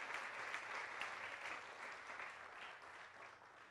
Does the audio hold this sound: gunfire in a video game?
no